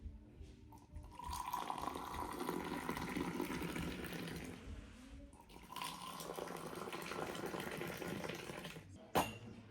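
Moroccan mint tea is poured in a continuous, fairly quiet stream of liquid, rising and falling over nearly ten seconds with a short break midway and no talking.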